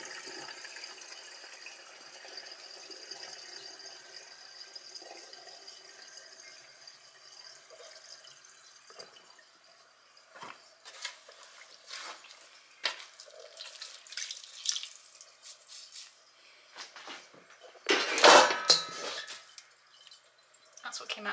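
Water from a tap passing through a vacuum hose while a husky's room is cleaned, a faint trickle at first, then scattered splashes and gurgling bursts building to a louder rush near the end.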